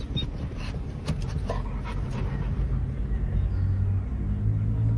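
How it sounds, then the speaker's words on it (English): Quick, rhythmic dog panting close by, continuous over a low engine rumble of a moving vehicle. "Dog, stop, homie!"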